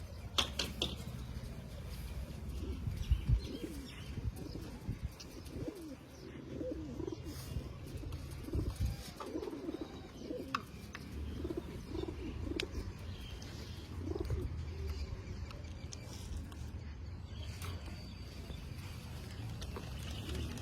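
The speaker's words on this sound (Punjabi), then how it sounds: "ਹੈ ਬਹੁਤ ਵਧੀਆ ਕਬੂਤਰਾਂ ਦਾ ਜੀ ਇਹ" Pigeons coo in a soft, repeated rhythm from a short distance, with occasional chirps over a low, steady background hum and no talking.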